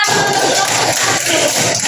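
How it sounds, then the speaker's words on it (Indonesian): Schoolchildren in a classroom applaud a presenting group, a brief, steady wash of clapping and cheering that fills the whole moment. "Tepuk tangan untuk kelompok 1"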